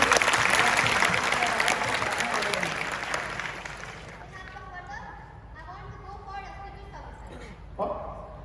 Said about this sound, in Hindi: वेरी गुड, वेरी गुड, तालियां बजाइए इसको।